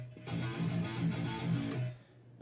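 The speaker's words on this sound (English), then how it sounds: "The ending breakdown is also really cool." Ending metal breakdown of a song, with low, chugging downtuned guitar hits and pounding drums in a choppy, syncopated rhythm, bright cymbal crashes on top, loud and dense before cutting off.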